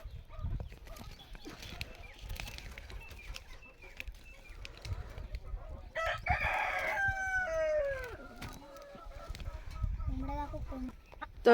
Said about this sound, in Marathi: तर मित्रांनो, हे कोंबड्या आहे.